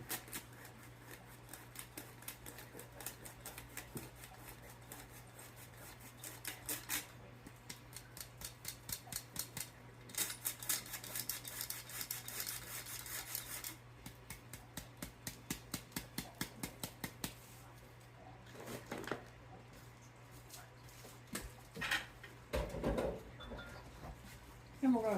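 Flour and salt are sifted for sugar cookies, a soft, rapid run of ticking and patter in bursts that come and go over a faint steady hum, with quiet talk in between.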